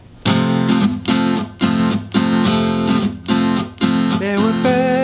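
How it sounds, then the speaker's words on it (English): An acoustic guitar plays a Spanish-style strumming pattern, with bright, full chords struck in a lively repeating rhythm, some quick rasgueado-like bursts and a short melodic run near the end. "we're going to do a Spanishy style strumming pattern that sounds like this"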